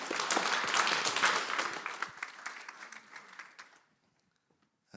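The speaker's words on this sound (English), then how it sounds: "Once again, big round of applause." Conference audience applauding, a dense burst of clapping that thins out and fades to silence within about four seconds.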